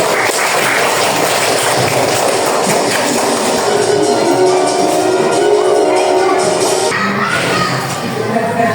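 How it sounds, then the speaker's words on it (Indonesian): An audience claps for a student group in a classroom or hall, a dense and fairly loud patter of hands that goes on steadily and fades slightly toward the end. "Tepuk tangan untuk kelompok audio."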